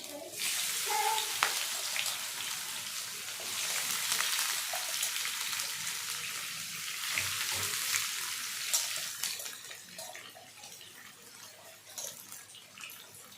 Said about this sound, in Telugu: ఇప్పుడు దొండకాయలు వేసేస్తున్నాం.